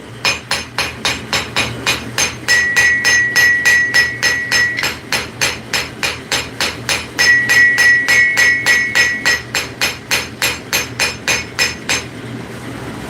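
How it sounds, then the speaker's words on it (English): Steady, rhythmic hammer blows ringing on an anvil while forging, dozens of sharp metallic strikes in quick succession, loud and close, with brief ringing tones between some strikes and a pause near the end. "Isn't it crazy how much quieter the anvil is?"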